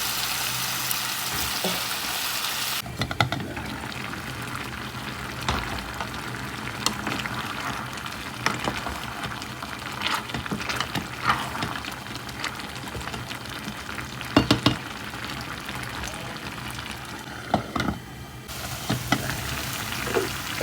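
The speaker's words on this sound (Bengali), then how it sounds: "ওইদিকে ঝিঙে মাছটা কষিয়ে নিচ্ছি" Fish with ridge gourd cooks down in a pan with a continuous, crackling sizzle. Scattered stirring clicks and spatter pops run over the sizzle, and the level shifts briefly at the start and end.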